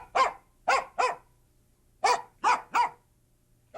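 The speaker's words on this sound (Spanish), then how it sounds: "El perro, ese fiel amigo que nos ha seguido a lo largo de nuestra explicación" A dog barks six times in two tight bursts of three, each bark sharp, close and loud, with a quiet pause between the groups.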